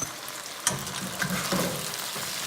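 Green onions hitting a hot pan of turkey mabo tofu, a close, lively sizzle with a sharp burst as they drop in, followed by steady frying crackle and light stirring.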